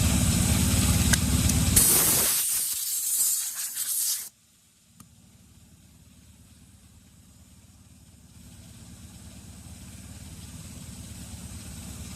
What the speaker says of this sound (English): Surface prep spray on the used scuff pad.